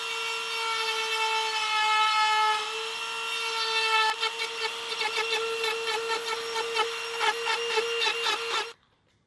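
Dremel rotary tool grinding and sanding a car sail panel to fit a tweeter ring, a steady high whine that shifts into a choppier, pulsing buzz midway before stopping abruptly near the end.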